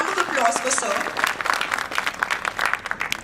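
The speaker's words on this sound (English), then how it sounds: "A round of applause for sir." Audience applause at the Tata Technologies InnoVent 2024 event honoring the CEO, a short burst of clapping from a seated crowd, moderately loud and fading slightly toward the end.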